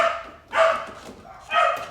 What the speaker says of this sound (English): Damn, dogs are so loud.